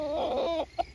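A coucou dorée hen in her pen gives a short, close, throaty cluck, followed by a brief higher note.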